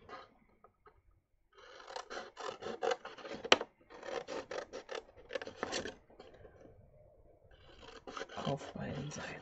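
Scissors cut into paper or card along fold lines on both sides, with bursts of rapid rasping snips separated by short pauses, close and fairly quiet.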